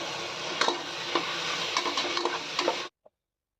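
Tomatoes tumbled into a pan of frying onions and chillies for a beef gravy, with steady close sizzling and a few sharp scraping stirs before the sound cuts off abruptly.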